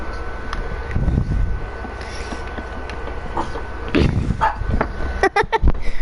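A dog barks a few times, sharp and fairly close, with a quieter stretch of rustling and faint sounds before the barks.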